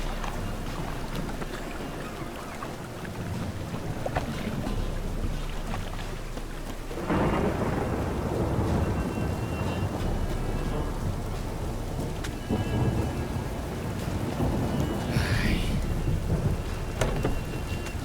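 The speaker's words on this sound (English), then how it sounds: "A storm, damn it." A thunderstorm in The Witcher 3 brings steady heavy rain with low rumbling thunder and one loud crack about midway, followed by continuous downpour with no voices.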